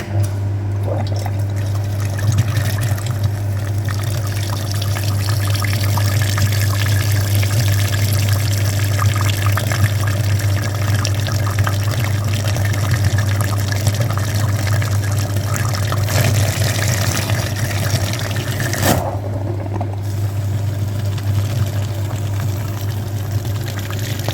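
A continuous loud whooshing, gurgling flow of liquid driven by a running coolant flushing machine cleaning the cooling system and radiators of a Hyundai Sonata YF LPI, steady throughout with a brief dip near the end.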